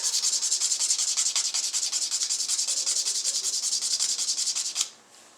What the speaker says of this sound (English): you want to use the harder side of the file or the rougher side of the file